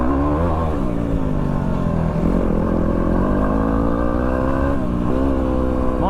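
A Yamaha WR250R dirt bike riding slippery wet single track, its engine droning loud and close with shifting revs and throttle changes throughout, steady and unbroken, no voices.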